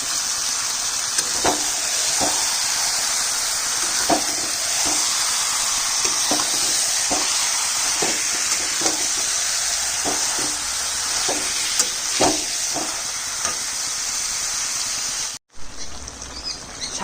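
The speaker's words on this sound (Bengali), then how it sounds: "দই মাখা ম্যারিনেট করা চিকেনটা দিয়ে দিলাম" Yogurt-marinated chicken fries in a spiced masala, a steady close sizzle broken by regular stirring scrapes and clacks, then a sudden brief drop before the sizzle resumes more quietly.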